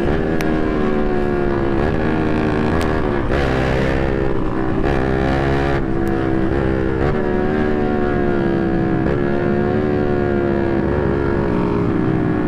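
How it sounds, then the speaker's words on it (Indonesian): A motorcycle rides fast with its engine roaring loud and close, a continuous rough, buzzing drone that rises and falls as the throttle changes and gears shift, with no voices. "Kencang juga sekarang motor Jaya, coy"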